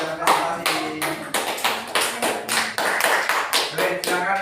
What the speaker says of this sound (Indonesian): tepuk tangan buat Mas Fadil dan kelompok yang sudah presentasi